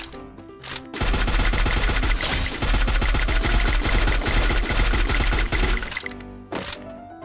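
Heavy automatic gunfire and rapid shots rattle through a shooting video game battle, loud and sustained for several seconds after a brief lull, with bursts overlapping and fading at the end.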